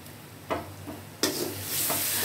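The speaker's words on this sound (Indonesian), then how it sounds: "Kemudian masak, aduk-aduk kembali" Short bursts of scraping and stirring in a pan over a steady sizzle of frying chicken meat filling with pepper, with a couple of louder clattering strokes.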